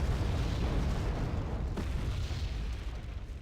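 Mortar explosions in the Wargame Red Dragon strategy game, heard as a dense, rumbling, low boom wash that stays steady and fairly loud for a few seconds, with no voices.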